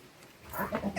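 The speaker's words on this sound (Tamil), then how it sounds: "பக்கத்துலயே ஒரு ஆட்டுக்குட்டி இருக்கு" A young goat bleats nearby on a farm during a cattle Pongal festival, a short, loud, wavering call rising in the second half, with no talk over it.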